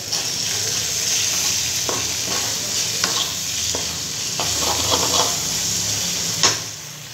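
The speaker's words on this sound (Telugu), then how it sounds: "ధనియా పౌడర్ వేసిన తర్వాత కలిపేసాను." Food fries in a pan with coriander powder just added, a steady close sizzle broken by repeated scrapes and knocks of a spoon stirring.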